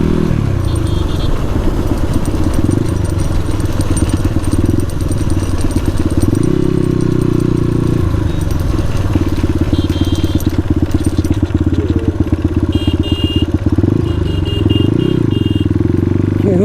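A Suzuki RM250 dirt bike engine runs close and loud for the whole stretch, its throttle rising and falling while it is ridden, with faint voices now and then.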